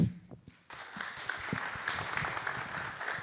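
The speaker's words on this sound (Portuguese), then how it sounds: "Salva de palmas, então, já está feito." Audience applause after a talk on volunteer mapping and OpenStreetMap data quality, starting suddenly and holding as a steady, dense wash of many hands clapping at moderate distance.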